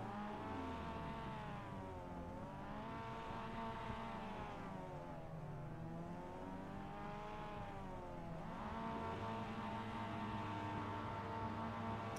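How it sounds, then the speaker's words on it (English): Racing car engines in a racing video game rev together on the starting grid before the race begins, a loud continuous multi-engine drone rising and falling in pitch in repeated swells. "Engines up."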